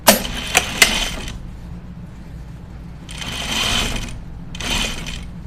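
Sewing machine stitching a denim jeans seam in bursts: a short run with clicks at the start, a pause, then two more whirring runs of a second or so each, close and clear.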